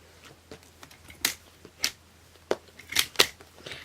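Cuts trimming half an inch off the edge of a stamp platform, a scattering of sharp snipping clicks spread irregularly through the quiet, close and fairly crisp.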